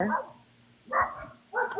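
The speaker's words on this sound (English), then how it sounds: "And they're still barking because I still have all that commotion in the front of the house." A German Shepherd barks three times at a commotion outside a house, the barks loud and close, spaced with short pauses between them.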